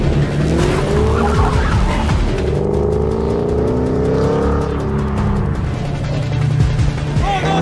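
Cars in a chase skid with long tyre screeches over loud, roaring engines, continuing without a break for several seconds.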